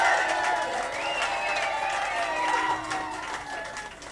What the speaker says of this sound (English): What about a big applause for the staff?